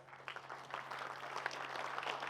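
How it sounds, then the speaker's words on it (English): Audience applause for two volunteer assistants called up to help with a demo during a keynote talk, a soft, steady patter of clapping from a crowd that stays fairly faint throughout. "let's give them a little round of applause"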